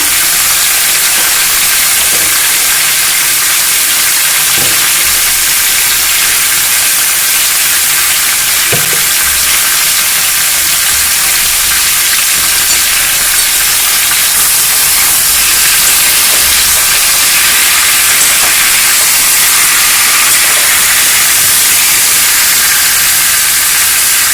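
Potato chunks with turmeric and salt fry in hot oil for chicken curry, giving a loud, steady sizzle and hiss that runs unbroken throughout, with an occasional faint clink.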